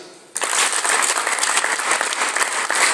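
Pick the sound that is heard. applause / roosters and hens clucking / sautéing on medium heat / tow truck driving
applause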